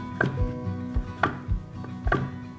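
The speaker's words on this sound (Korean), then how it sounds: "이렇게 썬 거를 송송 썰어주세요." A knife chops beef on a cutting board for tteokgalbi, a series of sharp, close knocks coming at an uneven rhythm, with a quiet kitchen between the cuts.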